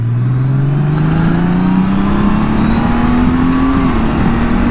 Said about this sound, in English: So many different ways to shift this motorcycle.